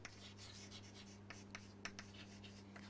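A pen scratches out a maths solution in short, quiet strokes and taps, close and faint over a steady low electrical hum.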